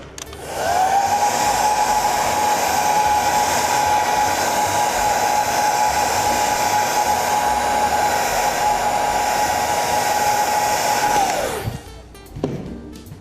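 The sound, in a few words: hair dryer blowing on a leather repair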